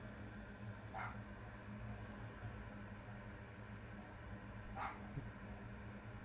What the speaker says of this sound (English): my dogs hear me and they're all barking now